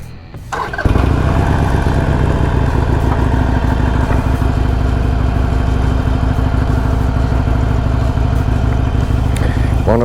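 A Harley-Davidson Iron 883 Sportster with a two-cylinder V-twin engine cranks and fires up, then settles into a loud, steady, close-up lumpy idle that rumbles on without a break.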